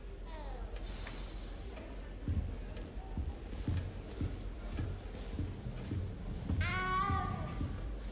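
A cat in the Hogwarts Legacy video game lets out one drawn-out meow near the end, heard over steady footsteps and soft castle ambience.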